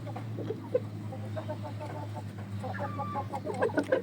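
A black Aseel hen in a laying nest clucks softly several times, close, in short irregular bursts over a steady low hum, with faint rustling around her.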